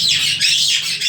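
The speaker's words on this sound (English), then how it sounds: "blue and gold macaw" A blue and gold macaw in a bird store lets out a loud, harsh, sustained squawk at close range, rasping and wavering for about a second with no talk over it.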